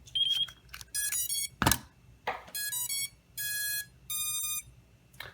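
A Bugs 3 Mini drone being bound to a Jumper T16 radio gives several separate electronic beep bursts in a broken rhythm. The tones are clear and close, and one sharp knock falls among them.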